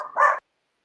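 A dog gives a single short bark, close and fairly loud, cut off abruptly and followed by silence.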